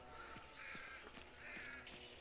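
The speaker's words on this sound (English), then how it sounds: "Birds, birds, birds." Crows cawing in short, repeated calls from a few birds flushed by the player in the video game Hunt: Showdown, set against a steady outdoor ambience at a moderate distance.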